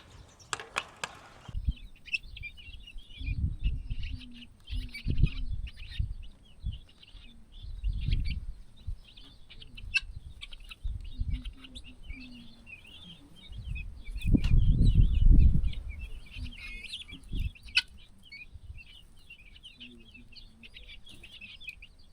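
Guinea fowl and their chicks call in a homestead pen, with thin high peeping chirps running throughout over scattered low clucks, scuffles and a louder burst of activity midway.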